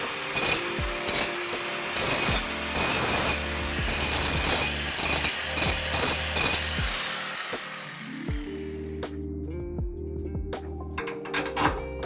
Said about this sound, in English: I did grind away a little bit more metal than I needed to on that rear shock mount